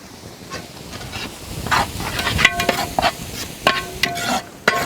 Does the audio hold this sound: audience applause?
no